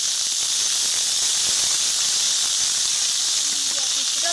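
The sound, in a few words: yardlong beans frying in oil in a wok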